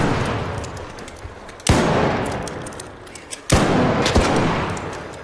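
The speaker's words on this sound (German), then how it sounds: "Bruder, wir schießen hier miteinander." Gunfire in the video game Arc Raiders: two loud, sharp shots about two seconds apart ring out over a steady noisy game backdrop, followed by a smaller crack near the end.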